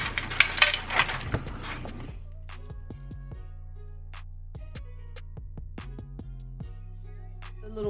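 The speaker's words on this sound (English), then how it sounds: "Insert the 4 trays into the clapboard slots according to your preference and secure with 8 rings." Plastic trays slotted into a rotating makeup organizer give a quick burst of rattling, then a run of small sharp clicks and taps at irregular intervals, close and fairly quiet.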